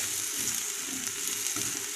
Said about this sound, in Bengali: তো এই যে দেখুন, কাঁঠালগুলো ভাজা হয়ে আসছে।